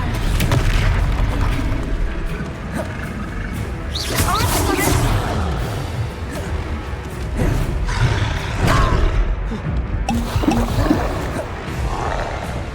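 Spell cast in the video game Hogwarts Legacy: dense booming magical blasts and roaring effects pile up continuously, loud and close, with game voices mixed in.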